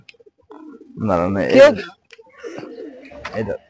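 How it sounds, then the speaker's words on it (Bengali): A Jade Spring pigeon gives a couple of throaty, warbling coos at close range, with a voice heard alongside. "এই যে কবুতর একটু দেখাই দেই জেড স্প্রিং যে দর্শকদের"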